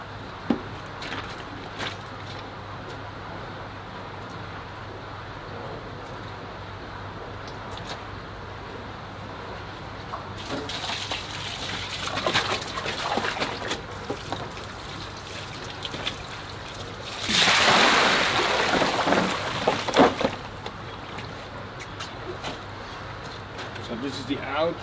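Water runs from the outlet of an Aquaforte solar pool heater, a soft trickle that turns into louder pouring bursts partway through, with someone speaking at times.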